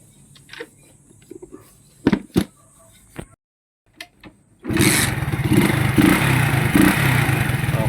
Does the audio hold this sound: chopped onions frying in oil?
no